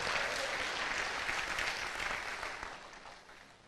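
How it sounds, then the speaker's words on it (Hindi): Audience members at a training session applaud with a soft, continuous patter of many hands that gradually fades toward the end, heard at a distance with no talking over it. "एक जोरदार तालियां होनी चाहिए आपके लिए"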